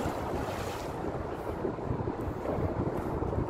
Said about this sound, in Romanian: Iar e vântul, ne-am băgat sub pod, iar a început vântul.